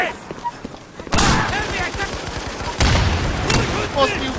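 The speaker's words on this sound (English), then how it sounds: "Jeff, if you're gonna wear a shotgun, can you at least shoot straight? I'm using slug, it's hard" Shotgun slug blasts ring out in the video game Insurgency, with a few sharp, loud shots spaced apart amid chaotic gunfire, while players talk over the action.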